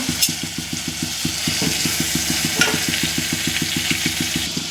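Drumstick pieces fry in oil with tomatoes, a steady close sizzle laced with quick, regular pulsing beats from a nearby running appliance, continuous and fairly loud with no talking.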